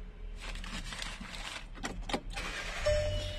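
A 2019 Volkswagen Caddy Maxi van starting up, with a brief starter crank and clicks giving way to a steady low engine idle, recorded close by.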